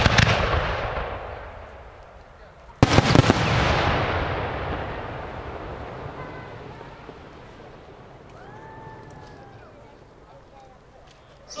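Large professional fireworks display shells fired as a five-shot fan: a sharp loud burst of launches and crackling explosions followed by a long decaying rumble and distant pops, with faint voices in the background.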